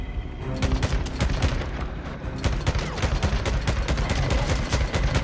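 Rapid gunfire from a firearm in the video game Days Gone, dense bursts of shots fired continuously and close, with heavy booming low end throughout.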